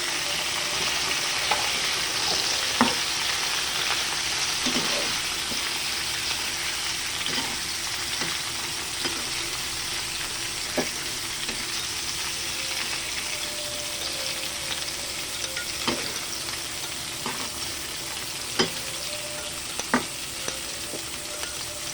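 Chicken wings fry in caramelized sugar with a dense, steady sizzle that runs the whole time. Scattered clicks and scrapes of stirring break through the sizzle, and no one talks.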